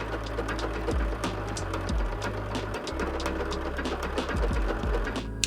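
A sewing machine fitted with an open toe foot stitches across the top of a zipper purse, a close and steady mechanical whirring in short runs with brief pauses between them.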